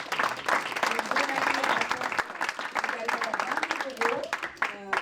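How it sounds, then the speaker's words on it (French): An audience at an awards ceremony applauds a prize winner with lively, uneven clapping that rises and dips over about five seconds, while voices speak over it and near the end. "on peut les applaudir"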